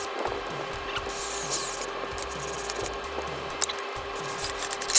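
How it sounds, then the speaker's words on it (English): Screws are driven into a wooden frame for an outdoor frilled dragon enclosure, producing close, uneven rubbing and grinding with short scraping bursts and small knocks, and no voices. "Now we just got to screw in the screws and repeat this step on all the other sides."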